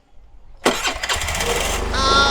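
A car engine cranks and catches, then idles erratically with a rough, uneven roar that surges and wavers after an idle speed control adjustment, loud and close, with a whine rising near the end.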